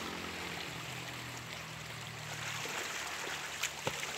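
Río El Boquerón near El Estor, Izabal, flowing as a faint, steady trickle and wash of water, with a low hum underneath and a couple of small knocks near the end.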